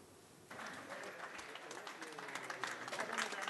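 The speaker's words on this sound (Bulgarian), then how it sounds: "С аплодисменти бяха посрещнати първите клиенти в търговски център в Париж" Applause rising as the first customers arrive at a Paris shopping centre, a crowd clapping steadily and growing denser, with a babble of voices underneath.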